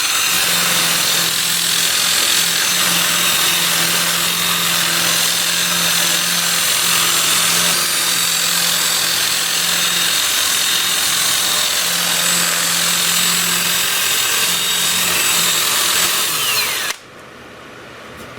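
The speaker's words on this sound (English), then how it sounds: "I'll switch to my 2-inch disc starting at 80 grit" Power sander spinning a 2-inch, 80-grit disc against a wood-turned piece, a loud steady whine running nearly unbroken for about seventeen seconds before cutting off abruptly.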